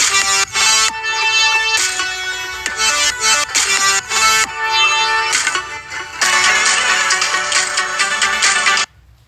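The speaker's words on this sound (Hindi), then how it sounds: "बीच में एक फ़ोन आ गया था, सॉरी।" A mobile phone plays its ringtone for an incoming call, a loud repeating electronic melody in bursts with brief gaps, cutting off abruptly near the end.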